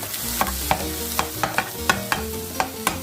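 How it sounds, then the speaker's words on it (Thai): A utensil stirs salmon and scrambled eggs with oil and butter in a worn, peeling Teflon frying pan, sharp scraping strokes about every third of a second over a soft sizzle, close up and without talk. "พี่ปูก็คนทุกอย่างให้เข้ากันนะคะ"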